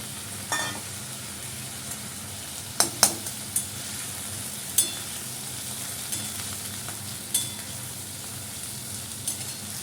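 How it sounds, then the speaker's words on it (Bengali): Potato, Gobindobhog rice and green chillies frying in a pan, a steady quiet sizzle with a few sharp spoon-against-pan clinks as the mixture is stirred, no voices. "কাঁচা লঙ্কা আলুটা দিয়ে দিলাম, এই গোবিন্দভোগ চালটা দিয়ে দিচ্ছি। আলুর সাথে ভাজাবো।"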